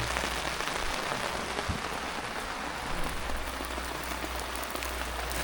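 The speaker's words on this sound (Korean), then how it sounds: "빗소리 들리지 빗소리" Steady rain pattering on a camping tent during a rainy-day campout, a dense continuous hiss with no voices over it.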